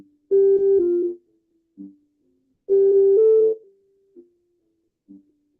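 Twinkle Twinkle Little Star played as a synthesized tone melody made in Desmos and heard over a Zoom call, two short bursts of steady notes with quiet gaps and faint echoes between them.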